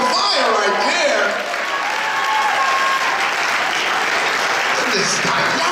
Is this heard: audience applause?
yes